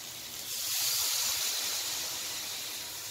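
Coconut milk for laing boils in a covered pot, giving off a steady, close, hissing bubbling noise that swells slightly and then eases, with no voices.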